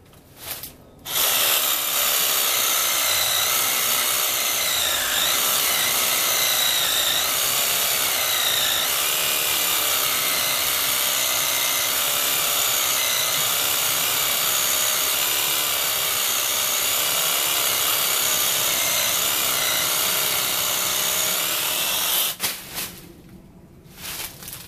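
Ryobi 18V cordless reciprocating saw with a fairly short blade cutting through a tree branch outdoors, a loud continuous buzzing run of about twenty seconds that stops abruptly near the end.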